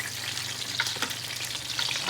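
Quails basted with hot fat in a pan, a dense steady sizzle and crackle with faint spoon scrapes, close and continuous with no talking.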